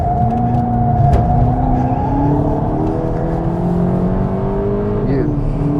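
A 2022 Volkswagen Polo GTI accelerates at full throttle, its loud, close engine note climbing steadily, then dipping briefly near the end before rising again.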